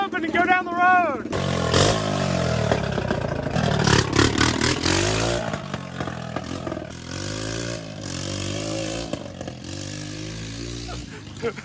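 A Honda Rancher ATV engine revs hard at wide open throttle, a loud buzzing roar that rises and falls as it rides down the road, with rattling and clatter mixed in.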